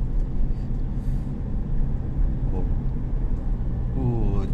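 A Mitsubishi Pajero Sport Dakar with an eight-speed automatic gearbox accelerates on the road, a low engine and road rumble inside the cabin with a rising tone near the end, while someone speaks briefly.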